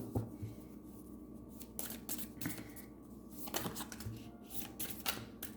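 Cards shuffled by hand for a tarot-style reading, soft repeated riffling and snapping bursts at close range, quiet and without talk.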